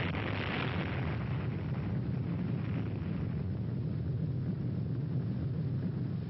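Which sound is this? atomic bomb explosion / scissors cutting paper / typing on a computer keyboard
atomic bomb explosion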